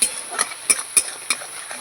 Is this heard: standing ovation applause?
no